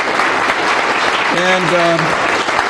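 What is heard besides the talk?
round of applause for volunteers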